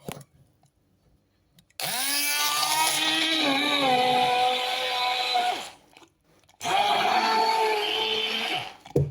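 A blender whirs loudly in two bursts while mixing a milkshake, its pitch rising as it spins up and dropping as the contents thicken, with a short pause between.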